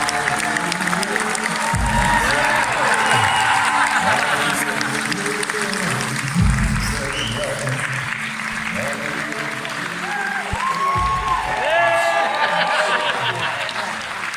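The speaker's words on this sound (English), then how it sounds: "please make some noise for the man himself, Mr. Rob Perlman" A comic con panel audience at Wales Comic Con 2019 gives sustained applause with cheering and whoops, loud and dense throughout, as a guest actor is introduced, with some voices shouting within the crowd.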